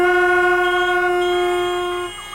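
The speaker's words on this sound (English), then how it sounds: "The symphony of the honking horns and the spinning wheels played over and over." A single car horn blares loud and unbroken for about two seconds in snowstorm traffic, a steady tone with no other sound, then cuts off.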